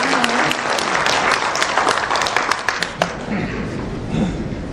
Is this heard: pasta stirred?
no